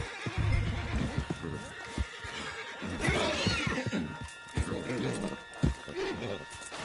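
A horse whinnies amid hoofbeats and scattered clatter in Red Dead Redemption 2, with people talking over the commotion.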